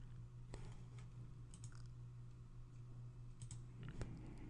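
A computer mouse gives a handful of faint, sparse clicks, spaced irregularly over a low steady electrical hum in a quiet room.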